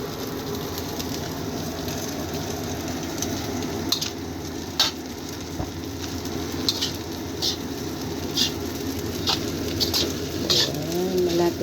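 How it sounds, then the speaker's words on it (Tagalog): Fried rice sizzles and crackles in a pan, a continuous frying hiss with scattered pops and the occasional scrape of stirring, close and steady without talk. "malapit na maluto ang ating fried rice"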